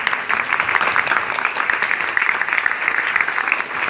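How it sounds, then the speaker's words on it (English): An audience at a small business marketing event claps loudly and continuously in a dense, sustained round of applause. "We need a huge round of applause"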